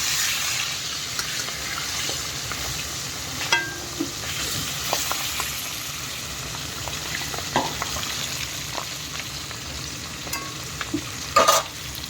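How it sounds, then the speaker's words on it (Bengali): Four pieces of fish frying lightly in a pan, a continuous soft sizzle with occasional clinks and scrapes of stirring throughout. "মাছ করবো এই যে 4 পিস মতন, একটু সাঁতলে নেবো হালকা"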